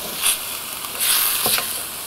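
Ingredients sautéing in a pan with cumin, garlic and lemon peel, a soft sizzling hiss with a few brief louder bursts as the food shifts, fairly quiet and without talk.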